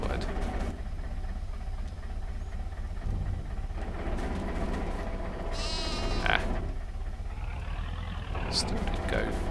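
Sheep in the Farming Simulator 22 video game bleat in brief, scattered calls at feeding time. The bleats sit over a steady low rumble of machinery, and a voice talks at moments.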